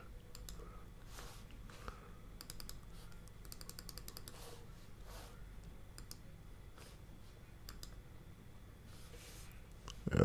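Computer mouse clicks while starting a Google Meet call, a scattering of soft, close clicks and light taps over quiet room tone.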